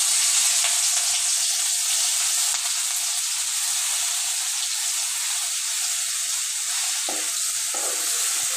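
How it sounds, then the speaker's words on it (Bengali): Ground onion, garlic and ginger paste fries in hot oil with whole cumin, cinnamon and cardamom, giving a loud, steady, close sizzle that hisses continuously with only slight shifts near the end. "এই পেস্টটাকে একটু ভালো করে ভেজে নেব।"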